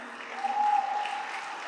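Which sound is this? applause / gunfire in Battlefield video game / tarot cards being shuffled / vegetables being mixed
applause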